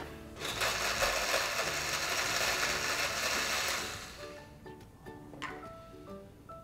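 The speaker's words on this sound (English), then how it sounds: "Let's go ahead and blend that shit" A blender whirs loudly and steadily for a few seconds while it purees half a banana, apple slices and half a tomato for a cocktail, then winds down into light clinks and handling noises.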